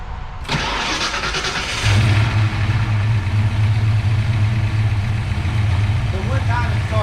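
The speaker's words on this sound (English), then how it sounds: "let's go in here and start this one up. And don't mind all the, like, lifters tapping and valves rattling" A tired car engine cranks and catches, then settles into a loud, steady close idle with lifters tapping and valves rattling throughout.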